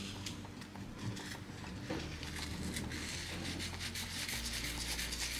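Salt and vinegar being rubbed by hand onto an antique wooden secretary desk, a faint, close, steady gritty scrubbing in quick back-and-forth strokes, with no talk.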